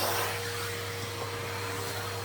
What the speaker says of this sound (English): you can hear it going up the vacuum